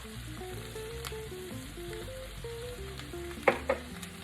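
Sliced zucchini sautés in a pan with a quiet, steady sizzle and faint stirring, then two sharper scrapes or clacks near the end.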